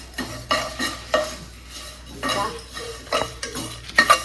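Mutton is stir-fried in a pan for a Tamil mutton sukka without added oil: repeated spatula scrapes and metallic stirring strokes come close and loud in an uneven rhythm over a low sizzle.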